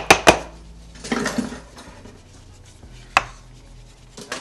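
A cake pan holding chocolate cake batter is shaken to level it, giving a few sharp metallic knocks and rattles near the start, a scraping shuffle around one second, then another clank, all close with no talk.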